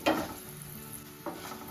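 Garlic and tempering spices sizzle softly in hot oil on a stove, with two brief stirring scrapes of a spoon against the pan over the quiet frying.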